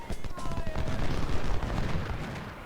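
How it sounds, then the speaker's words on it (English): Cannon bombardment by 10-pounder guns in the Civil War strategy game Ultimate General: Civil War, a dense run of overlapping booms and gunfire rolling continuously at moderate loudness, with faint musical tones early on. "our 10-pounders should be starting the bombardment of the enemy soon"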